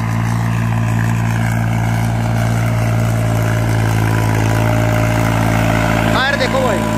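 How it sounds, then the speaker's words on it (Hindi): A tractor engine running steadily in second gear under light load, a loud continuous low drone with a steady mechanical hum throughout and a brief higher rasp near the end. "अब हल्की सी दबाव महसूस कर रहा है ट्रैक्टर, अब दूसरे गियर में लगा देंगे"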